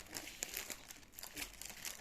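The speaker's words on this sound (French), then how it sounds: "C'est mon chat qui veut rentrer dans le sac du colis." Soft, close crinkling of a plastic parcel bag, irregular rustles and crackles as a cat moves around inside it, quiet with no voices.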